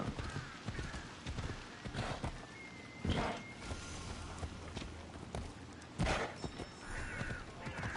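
Horse hooves pounding in the Assassin's Creed Odyssey video game, a fast, continuous clip-clop of a galloping horse with a few louder thuds, under faint ambient game sound.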